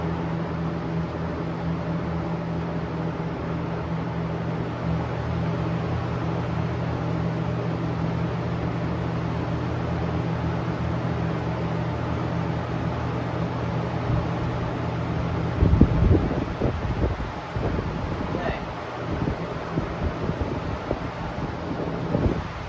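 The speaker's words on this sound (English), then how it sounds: "These two are very loud fans." Two very loud electric fans running steadily with a strong, even hum and whoosh of rushing air, then a few clattering knocks and bumps near the end as the fans are handled.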